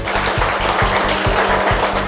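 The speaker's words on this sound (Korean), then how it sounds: "우렁차게 한번 박수 한번 부탁드리겠습니다" Loud, steady crowd applause at a finance seminar, with a regular low thumping pulse underneath, like rhythmic music or beats beneath the clapping.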